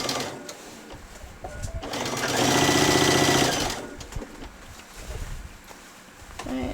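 A sewing machine runs along a child's dress seam in a loud, close burst of rapid stitching that swells in the middle, framed by quieter handling noise and softer machine sounds before and after.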